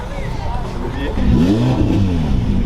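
A Lamborghini Aventador SV accelerates at a rally event, its engine note rising under crowd chatter and background noise.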